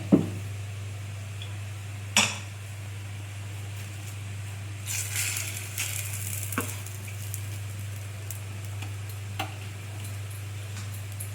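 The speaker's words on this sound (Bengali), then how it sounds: "দেখো ওই যে আমি দুদিকে ভাজছি তাড়াতাড়ি হওয়ার জন্য।" Pitha, a Bengali rice cake, frying in a pan and turned to cook on both sides, giving a quiet steady sizzle with a few sharp ticks and clicks from the utensil, with no talking.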